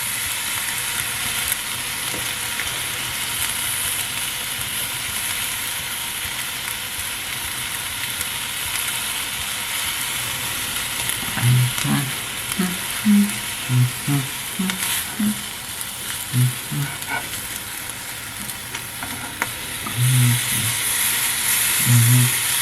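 Brie wrapped in Parma ham frying in a pan, a steady close sizzle and hiss that runs throughout, with soft stirring or turning bumps around the middle and again near the end, and no talking.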